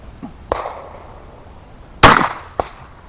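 Three gunshots from reloaded handgun ammunition fired over a chronograph: sharp, distant-sounding cracks spaced unevenly, with the second the loudest and the third following it closely.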